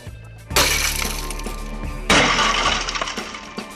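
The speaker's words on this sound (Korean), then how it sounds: "잠금 장치 부분에 큰 충격을 받으면 강화 유리가 깨지면서 금고가 자동으로 잠기는 것이다" Tempered safety glass inside a safe's locking mechanism shatters in two loud, close bursts, each followed by a spray of tinkling fragments settling over a few seconds.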